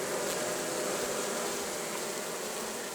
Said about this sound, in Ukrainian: Все-таки це справжній рій.